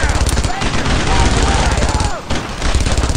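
A squad in the World War II game Brothers in Arms lays down suppressing fire, a loud, steady stream of rapid rifle and machine-gun shots that runs without a break and drowns out everything else.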